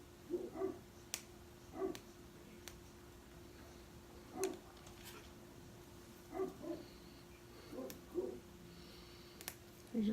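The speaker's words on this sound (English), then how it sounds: "I'm sure you can hear the dogs barking." Dogs bark in the distance outdoors in a neighborhood, about eight short, faint barks spaced irregularly, several in close pairs, over a quiet background with a steady low hum.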